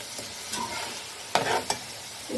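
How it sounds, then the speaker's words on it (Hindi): Meat for biryani frying in a pan over low to medium flame, with a steady close sizzle broken by a few sharp stirring scrapes and clinks. "बहुत अच्छे से इसे भून लेना है"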